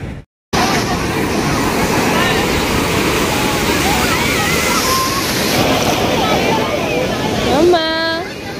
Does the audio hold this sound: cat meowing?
no